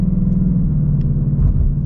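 A 2022 Ford Mustang GT with a 10-speed automatic gives a steady, loud low engine rumble under acceleration, continuous and close throughout, with no talking.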